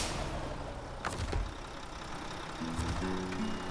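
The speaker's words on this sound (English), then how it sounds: "Turn on the engine." A heavy truck's engine in SnowRunner rumbles steadily at low pitch, with a sharp hiss like an air brake midway and a deeper engine tone rising near the end, no talk.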